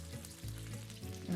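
Ricotta mini-meatloaves sizzle and fry as they are set back into sauce in a skillet, a close, steady crackle that swells in brief bursts as each piece goes in.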